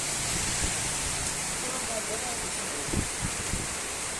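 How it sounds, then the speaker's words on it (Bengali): Heavy rain pouring down in the Debnathpur area of Tehatta, Nadia: a steady, dense, even hiss that fills the whole stretch without letting up, with a few soft low thumps near the end. "আজ যথেষ্ট বৃষ্টি শুরু হয়েছে চলছে দীর্ঘ সময় ধরে"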